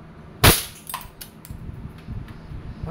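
A KWC airsoft 75 competition pistol fires a single sharp, loud shot near the start, followed by faint mechanical clicks and low background noise.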